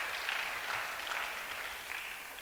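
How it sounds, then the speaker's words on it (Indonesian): An audience at a youth revival retreat worship service applauds, a steady, even wash of clapping that holds at moderate volume without voices on top. "Beri tepuk tangan buat Tuhan kita"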